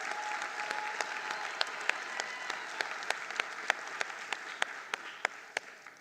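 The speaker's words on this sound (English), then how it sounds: "Let's give him a round of applause" An audience applauds an award winner at a national exam results ceremony, a steady soft wash of clapping heard from a distance, with individual louder claps popping through at a regular beat near the microphone.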